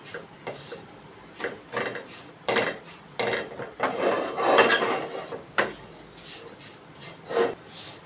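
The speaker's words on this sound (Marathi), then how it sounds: "आता हे मसाले आहेत ना हे पहिले आपण तेलावर परतून घेऊया" Ground coriander, fennel and black pepper are sautéed in oil over a low flame. A spoon scrapes and rubs against the pan in short bursts, close and fairly loud, with brief pauses between strokes.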